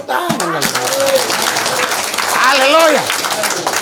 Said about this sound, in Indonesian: Nah, langsung tepuk tangan.